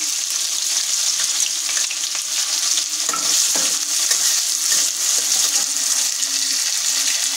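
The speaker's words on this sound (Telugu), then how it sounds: "జీలకర్ర కొంచెం వేగాక అప్పుడు ఉల్లిపాయలు వేసుకుందాము. జీలపాయలు, పచ్చిమిరపకాయలు వేసుకుందాము." Cumin, onions and green chillies fry in hot oil, a steady close sizzle with occasional stirring scrapes running the whole time, no voices.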